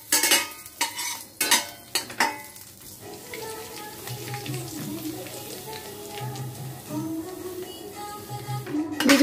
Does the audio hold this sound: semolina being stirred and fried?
yes